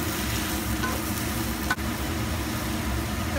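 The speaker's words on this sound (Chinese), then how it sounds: "咁就可以加啲聖瓜落去炒噶啦。" Sponge gourd, dried shrimp and cordyceps flowers stir-fry in a wok with a steady, close sizzle and a low rumbling hiss, broken by one sharp clink of a utensil midway, with no talk.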